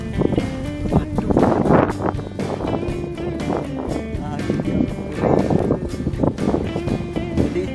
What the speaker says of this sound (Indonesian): anginnya luar biasa kencang